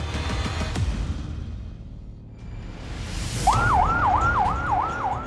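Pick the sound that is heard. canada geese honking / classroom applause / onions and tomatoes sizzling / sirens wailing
sirens wailing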